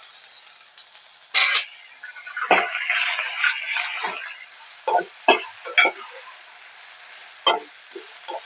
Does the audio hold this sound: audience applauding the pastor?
no